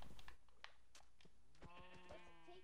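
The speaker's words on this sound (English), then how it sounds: "And I found another sheep." Sheep bleating in the Minecraft video game, a few short game bleats from 1.6 seconds on amid soft game sounds and clicks, with no talking.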